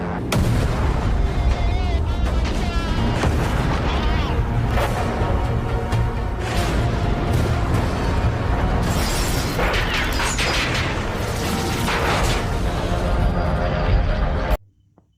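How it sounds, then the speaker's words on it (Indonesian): Dense, continuous bursts of rapid German anti-aircraft gunfire and booming blasts, loud and chaotic, layered with mechanical rumble, cutting off abruptly at the end. "langsung disambut dengan tembakan senjata anti pesawat Jerman"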